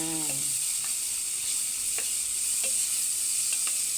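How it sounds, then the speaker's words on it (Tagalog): Star margarine sizzles steadily in a hot frying pan while cooking pork sisig, a continuous crackle with a few faint clicks and stirring taps and no talking. "Ayan, ready na ang ating kawali. Mainit na. Ilagay na natin ang ating star margarine."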